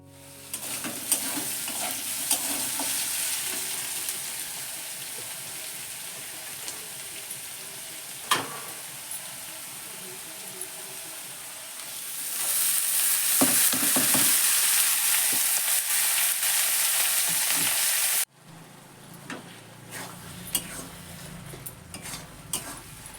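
Cabbage sizzles and fries steadily in a pan, a continuous close hiss with occasional stirring clinks and scrapes, swelling louder partway through before cutting to a quieter cooking background.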